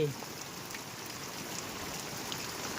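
A dense, even wash of heavy rainfall pours down continuously over a flooded farm field, a constant hiss with no pauses.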